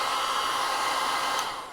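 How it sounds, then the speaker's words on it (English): A small pink hair dryer blows hot air onto a plastic NECA Predator action figure, a steady loud whooshing roar running unbroken throughout and easing slightly at the end, with no voices. "Yeah, I stole my wife's little hairdryer."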